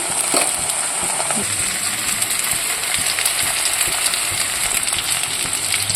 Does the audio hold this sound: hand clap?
no